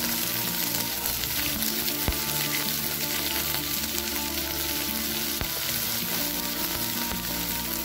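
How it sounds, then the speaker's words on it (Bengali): Chopped spring onion greens frying in hot oil with bay leaves, a loud, dense sizzle running continuously with occasional stirring scrapes and sharp clicks, no voices. "25-30 সেকেন্ডের জন্য একটু পেঁয়াজ পাতাগুলো ভেজে নেব।"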